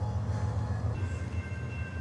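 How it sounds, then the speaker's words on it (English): Train passing nearby, a steady low rumble with faint wheel noise and a thin high tone, heard during a rainy e-bike ride. "Caught by another train."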